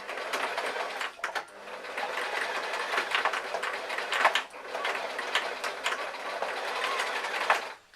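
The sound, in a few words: sewing machine stitching backwards and forwards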